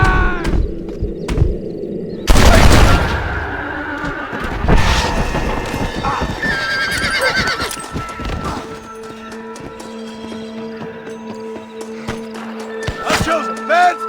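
Horses clip-clop and whinny in a Red Dead Redemption frontier shootout, with a sharp loud gunshot burst standing out early among hooves and scattered game noise, while voices talk through much of the scene.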